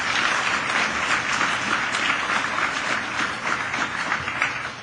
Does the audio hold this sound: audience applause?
yes